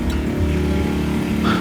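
A rototiller engine runs at a steady, loud, rough drone throughout, with no change in pitch and no voices.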